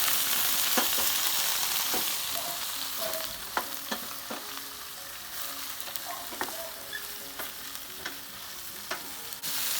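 Eggplant fries in a pan for a Chinese-style vegetarian dish under a continuous bright sizzle, with scattered spatula clicks and scrapes as it is stirred around.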